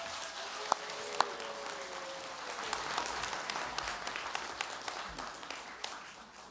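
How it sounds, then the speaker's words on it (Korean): An audience at a political seminar applauds to welcome four panel speakers. The clapping is moderate and steady, with a few sharp, close individual claps and a murmur of voices underneath. "박수로 환영해 주시기 바랍니다."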